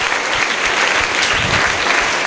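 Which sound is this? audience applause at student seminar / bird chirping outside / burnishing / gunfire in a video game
audience applause at student seminar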